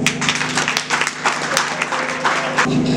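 Audience at a diploma graduation ceremony bursts into loud, close applause, dense clapping with uneven peaks sustained for a few seconds, with voices mixed into the crowd.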